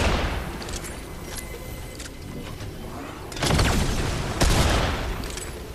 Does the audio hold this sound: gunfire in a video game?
yes